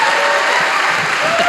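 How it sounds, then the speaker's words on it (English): An audience at a live interview with an EV company's CEO breaks into dense, continuous applause, loud and sustained throughout. "that deserves a round of applause"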